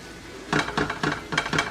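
Ground beef browning in a pan for cowboy stew, a bright run of metal scraping and clinking from a utensil working the pan in quick rhythmic strokes over a low sizzle.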